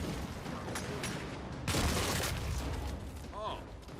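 Explosive headshot and gunfire in the Gears 5 video game, a broad booming blast bursting out midway over a rattle of shots and game noise, with a voice talking over the action.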